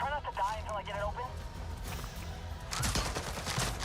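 Rapid instant-release bow shots in the video game Avatar: Frontiers of Pandora, a quick run of sharp snapping impacts in the second half over busy game ambience, with someone talking throughout.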